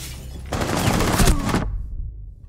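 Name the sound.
gunfire in a video game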